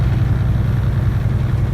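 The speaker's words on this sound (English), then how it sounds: "Sorry, my truck's really loud." A loud truck engine labors uphill, a steady low rumble with a throbbing pulse that stays close and constant throughout, with no talking.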